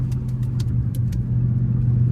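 Car pulling away hard from a tire shop, a loud close engine drone building steadily under light ticking clicks, no talking.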